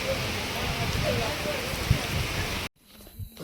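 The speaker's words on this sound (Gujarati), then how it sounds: "વરસાદ ચાલુ થઈ ગયો ફૂલ." Heavy rain pours down in a dense, loud, continuous roar of drops, then cuts off abruptly near the end, leaving only faint quiet sounds.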